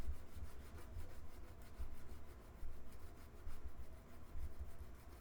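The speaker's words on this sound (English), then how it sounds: "That sanding stick actually removes quite a bit of material very quickly, considering how hard mother of pearl is" A sanding stick is worked back and forth over mother-of-pearl inlay on a 98-year-old Nahat oud, giving quiet, rhythmic scratchy rubbing strokes at close range with no talk.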